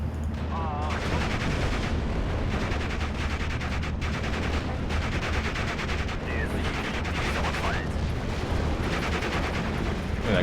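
Enemy mortar fire in the Normandy 1944 strategy game Steel Division, with repeated booming explosions and crackling gunfire over a dense, continuous battle din lasting throughout and layered with other in-game effects.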